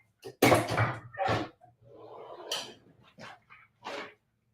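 A pet dog makes a series of short bursts, sniffs and mouthy noises up close, with brief pauses between them, eating kibble off the floor near a front door.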